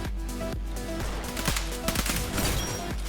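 Shotgun fire in a video game, a run of sharp, punchy blasts at a steady rhythm, roughly one every half second, loud and close with no talking over them.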